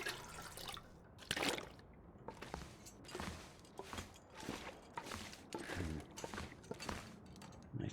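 Water scooped from a toilet tank in the survival game The Long Dark, heard as a short series of splashy drips and liquid clicks, with a voice talking over them.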